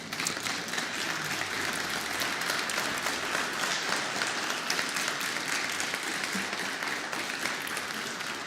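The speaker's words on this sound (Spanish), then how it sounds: "¿Cuántos se animan a darle un aplauso al Señor?" A congregation at Iglesia Casa de Dios applauds the Lord: dense, sustained clapping fills the hall evenly for over eight seconds, loud and unbroken, with no voices on top.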